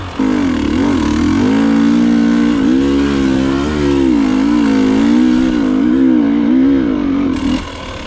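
A two-stroke TPI dirt bike ridden on the throttle, its engine note loud and close, rising and falling in pitch as revs vary, sustained throughout before cutting off abruptly near the end.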